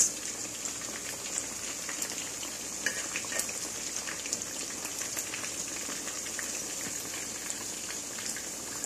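Chicken coated in cornflakes fries in a pan with a steady, bright sizzle throughout, marked by faint crackles and the occasional clink of a utensil.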